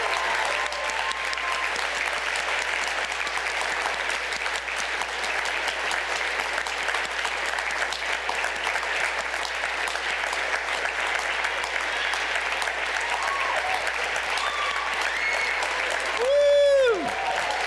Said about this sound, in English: we need to give Mr. John Richards the applause that he deserves.